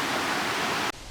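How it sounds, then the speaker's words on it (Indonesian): Tretes waterfall in Wonosalam, a loud, steady broadband rush of falling water that cuts off abruptly near the end, leaving faint background. "air terjun."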